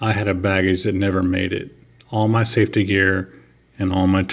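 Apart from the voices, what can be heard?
No everyday noises stand out.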